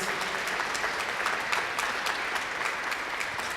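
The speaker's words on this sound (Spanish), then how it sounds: "Un aplauso para animarlos, por favor" Steady applause fills a Sunday church gathering as people are called to the front, dense continuous clapping from a sizable congregation, even in level with no speech over it.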